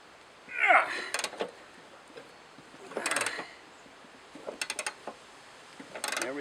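A wrench works the blade bolt on a Partner cut-off saw, giving short metallic ratcheting and clicking bursts at irregular intervals, close and fairly quiet, with brief gaps of near silence between them.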